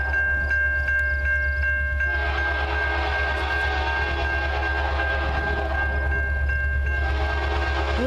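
A CN freight train passes southbound north of Ladysmith, a steady close rumble with sustained horn-like tones throughout and no talking.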